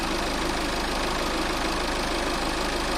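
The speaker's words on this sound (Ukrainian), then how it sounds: "Тобто компресор працює." A VW Passat engine idles steadily with its air-conditioning compressor engaged, giving a continuous close, even mechanical hum and rattle with no other sounds.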